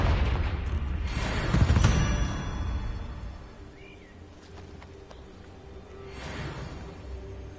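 Confringo blasting spell going off in Hogwarts Legacy, a broad rumbling burst near the start that decays into softer magical whooshes and faint chirps, with a second swelling blast toward the end.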